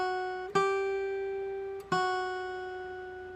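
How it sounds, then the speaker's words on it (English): Finger-style guitar melody from the hymn Have Thine Own Way, Lord: two clear plucked notes, each ringing out and slowly decaying, played softly and alone. "So if I'm just playing the melody line, it sounds like this."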